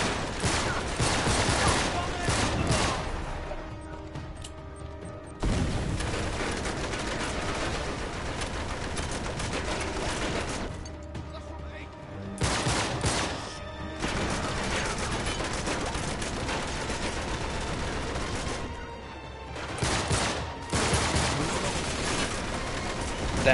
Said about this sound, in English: They have a machine gun.